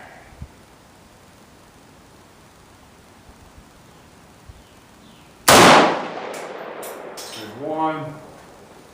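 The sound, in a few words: AK rifle test firing at a shooting range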